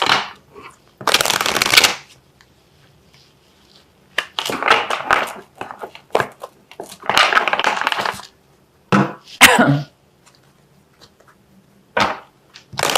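Tarot cards shuffled in several separate bursts of riffling and slapping, close and fairly loud, with quiet gaps between them.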